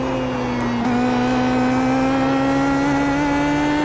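A PM18 race car laps Sebring International in a racing game. The close, loud engine note climbs steadily in pitch, with a brief gear-shift break near the start, and no one speaks.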